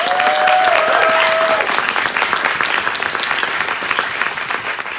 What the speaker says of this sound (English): So can we give them another quick round of applause?